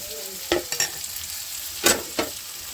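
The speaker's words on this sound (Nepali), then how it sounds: "यसमा हाल्छु अदुवा एकछिन भुटेछु" Chopped ginger frying in a pan in a Nepali village kitchen, a soft steady sizzle under a few sharp scrapes and stirs of a utensil, fairly quiet and close.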